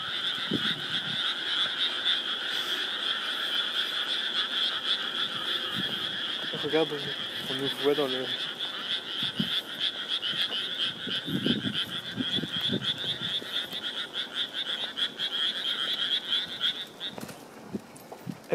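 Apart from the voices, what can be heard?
frogs croaking at the university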